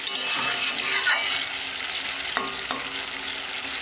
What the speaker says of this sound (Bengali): এইভাবে কষে নেব কিছুক্ষণের জন্য।